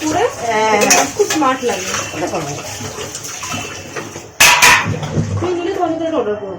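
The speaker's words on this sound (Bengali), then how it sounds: "কড়াইটা শুধু মাজবো" A wok is scrubbed and washed in a home kitchen with running water, intermittent clanks of metal cookware and a couple of sharp clatters, all heard under near continuous conversation.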